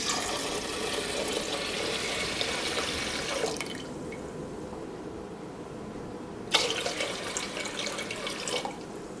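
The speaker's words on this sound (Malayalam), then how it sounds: "ഈ മുതിര വേവിച്ചെടുക്കാൻ വേണ്ടിയിട്ട് അതിലേക്ക് വെള്ളം ചേർക്കാം." Water pours into a pressure cooker holding horse gram in a home kitchen, a steady splashing rush that stops midway, then resumes for a second pour.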